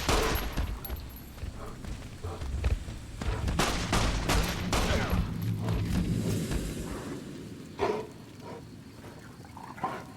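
A companion fires repeated gunshots at rocks in Fallout: New Vegas, scattered sharp bursts over game ambience, fairly faint.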